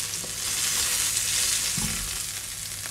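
Chicken pieces fry in a pan for a creamy garlic chicken dish, giving a steady, close, loud sizzle throughout with a few soft utensil scrapes and no talking.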